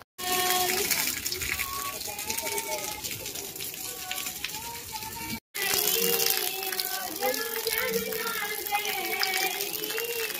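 Water gushing and splashing as pots are filled at an old village well during a public ritual, loud and continuous with children's voices and crowd chatter mixed throughout, broken by one brief gap.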